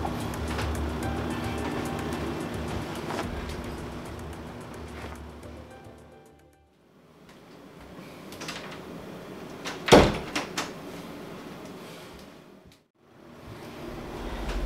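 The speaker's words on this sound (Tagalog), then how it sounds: "Sandali nga, ilalak ko yung pinto." A bedroom door is pushed shut and locked, landing as one sharp knock-like thud partway through an otherwise hushed room with soft background rumble.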